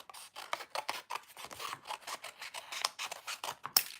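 Scissors snip through watercolor paper, cutting out pointy ellipse shapes for a berries collage: a rapid, uneven run of close, crisp cuts and paper rustles with no talking.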